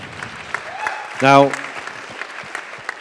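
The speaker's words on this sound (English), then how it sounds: "hold your applause for a second" Scattered applause from an audience at a charity grant award ceremony, sparse and fading, with a voice speaking briefly over the clapping.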